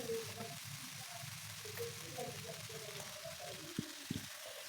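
Bean sprouts stir-fry in a pan with a soft, steady sizzle, a couple of sharp clinks from a utensil near the end, and faint talk in the background.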